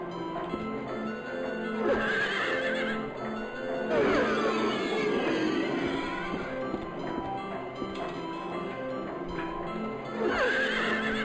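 In the video game Silent Hill 3, horses whinny repeatedly over a busy backdrop of galloping hooves and clatter, the neighs rising and falling at intervals.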